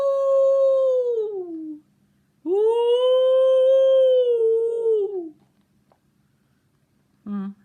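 Voices of children imitate wolves, rising into two long drawn-out howls with a gap between, then a brief last cry at the end.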